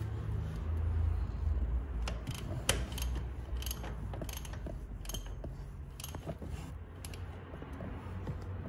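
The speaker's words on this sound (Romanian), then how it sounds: "acum cu o cheie de 17 învârtim motorul și ne uităm pe gaura aceasta de vizitare până când ajungem în punctul mort" CF Moto / Linhai 500 engine being turned over by hand with a 17 mm wrench, giving a run of close, quiet mechanical clicks, creaks and ratchet-like ticks over a low hum, with no talking.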